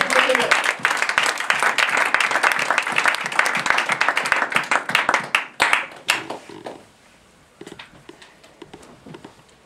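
A church congregation bursts into loud, dense applause and clapping that carries for several seconds, then thins into scattered claps and fades to near quiet.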